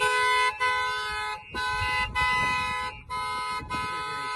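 The alarm horn of a 1986 Ford Sierra RS Cosworth blares in long repeated blasts, four bursts separated by short gaps, loud and close, with low rumbling noise underneath.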